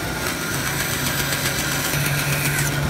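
A bandsaw cuts rough circles from wooden stock, a loud, steady whine and hum that holds constant throughout with no talking.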